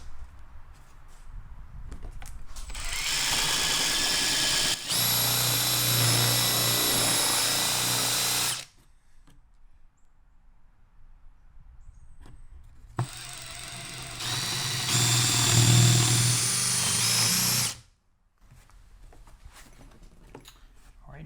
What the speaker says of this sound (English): we'll start with the spade bit